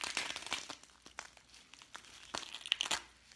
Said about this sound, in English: you can take your insole and just peel it off